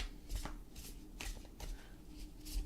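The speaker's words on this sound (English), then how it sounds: "More shuffling." Tarot cards are shuffled by hand in a run of soft, rapid riffling bursts, close and fairly quiet, with no talking.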